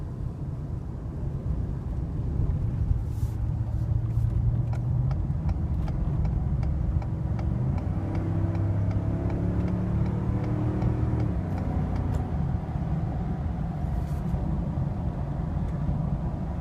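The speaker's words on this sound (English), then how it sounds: "You guys can hear the truck as it accelerates" A pickup truck engine revs up and climbs through the gears while merging onto a highway, its drone rising and falling steadily as it accelerates, heard from inside the cab.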